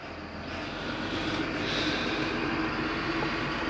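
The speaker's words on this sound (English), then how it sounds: "they just cranked the motor up next to us" A diesel motorhome engine nearby, beside a 2011 Thor Serrano 31X Class A diesel, rumbles at a steady loud idle with a deep low drone and a broad hiss, with no talking.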